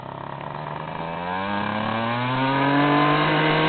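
Yamaha TZR 80cc two-stroke motorcycle engine revving up steadily, its pitch climbing and loudness swelling over a few seconds, close by with no talk.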